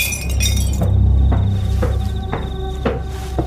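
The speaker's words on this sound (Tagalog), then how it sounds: "Nang marinig ang tunog na may nabasag na kung ano." Glass shatters loudly nearby, a burst of crashing breakage followed by scattered tinkling clinks of falling shards that fade over a few seconds.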